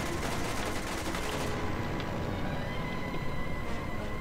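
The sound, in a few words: gunfire at a Zeppelin in Toy Soldiers video game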